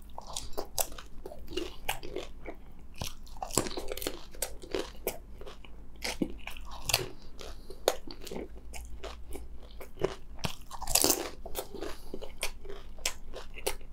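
Close crunching and chewing of spicy panipuri (golgappa) puris, a steady run of crisp bites and wet mastication with no talk, moderately loud throughout.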